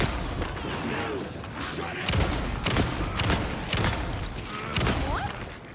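Gunfire in Alan Wake 2 (Night Springs): four or five sharp shots spaced irregularly over a busy background, with faint voice-like sounds around them.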